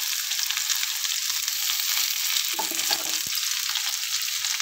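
Bitter gourd pieces fry in a pan with a steady, bright hiss of hot oil that runs unbroken throughout, a brief stir or scrape near the middle, and no voices.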